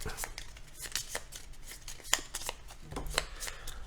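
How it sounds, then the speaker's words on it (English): Energy cards for the Raising Robots board game being shuffled at a table, a quick run of soft papery riffles and taps with a few sharper snaps, while players talk over it. "Shuffle your energy cards."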